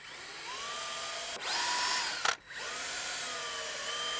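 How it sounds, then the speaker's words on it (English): A power drill whines in short bursts, speeding up and slowing, with a brief louder grinding burst as it drives into wood, close by. "Let's just drill the other side first."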